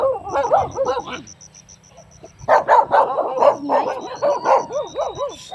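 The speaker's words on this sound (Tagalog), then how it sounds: "Daming aso dito." Several dogs barking and yipping nearby in repeated clustered bursts, with a quiet gap in the middle and a voice talking under the barks.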